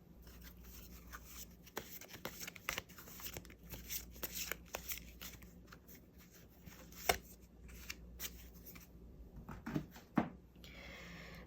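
Tarot cards are shuffled and drawn close by. Soft riffling and rubbing carries steadily throughout, broken by sharper slaps and taps as cards are set down. Nobody speaks.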